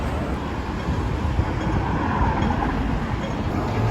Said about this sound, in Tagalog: So, sasakay na kami ng tren papuntang Disneyland.